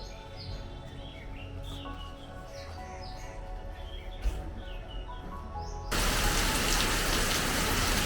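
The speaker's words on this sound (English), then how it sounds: "It's raining a lot" Heavy rain falling outdoors at a resort in Dehradun, India, a steady wash of drops with birds chirping through it, growing to a louder, denser downpour for the last couple of seconds.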